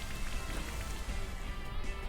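Rain Dance rain in a competitive Pokémon VGC battle, a faint, steady hiss of falling rain with soft patter throughout.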